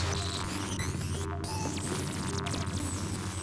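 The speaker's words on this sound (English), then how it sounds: "Broadband transmissions. Random noises mixed with distortion spikes." Steady electronic hum and throbbing static with brief sharp distortion bursts cutting in, a continuous noisy transmission.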